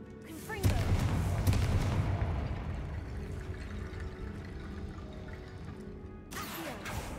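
A Confringo fire spell cast in Hogwarts Legacy bursts out as a loud booming blast, then a long rumbling roar of flame that slowly fades, with a second sharp impact near the end.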